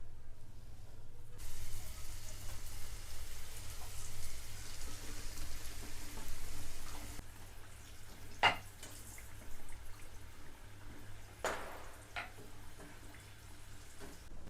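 Kadubu dumplings fry in hot oil with a continuous soft sizzle and crackle, broken by a couple of sharp clinks, with no talking.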